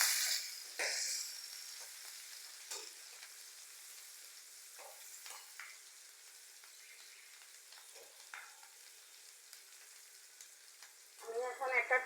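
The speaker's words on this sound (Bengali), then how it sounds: "একটু নাড়াচাড়া করে নিতেছি।" Chopped onion and four or five green chilies fry in a pan while being stirred, with soft intermittent sizzle and scattered spoon scrapes over a quiet background, a louder burst of stirring near the end.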